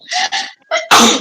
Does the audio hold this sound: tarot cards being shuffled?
no